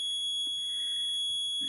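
A Chubb fire alarm control panel sounds a steady, continuous high electronic tone, fairly quiet and unbroken, with faint background clicks and no talk.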